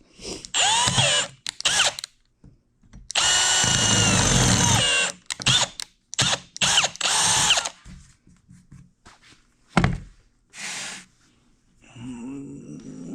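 A power drill with a worn-out chuck whirs in several bursts, one long steady run in the middle and shorter spurts around it, close and loud.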